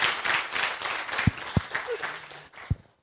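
Audience applause at the close of a long AJAX and JSON programming class, a sustained round of many hands clapping in a room with a few sharper claps standing out, fading out near the end.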